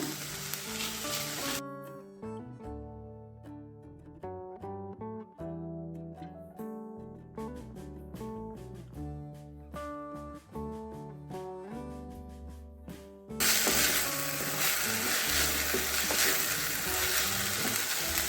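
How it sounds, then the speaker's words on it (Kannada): Tomato sizzling in a hot pan, loud and hissing for the opening moment, giving way to a long stretch of tonal music, then a bright, steady frying hiss that returns strongly near the end. "ಟೊಮೆಟೊ ಚೆನ್ನಾಗಿ ಫ್ರೈ ಆಗಿದೆ"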